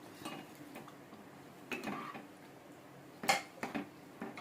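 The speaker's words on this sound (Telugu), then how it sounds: "బటర్ వేసుకున్న తర్వాత సన్నగా కట్ చేసుకున్నటువంటి పన్నీర్ ముక్కల్ని కూడా వేసుకుందాం." Paneer pieces tumbling into a pan with melted butter for palak paneer, heard as faint scattered clinks and taps of utensil on cookware, with a louder cluster of knocks near the end.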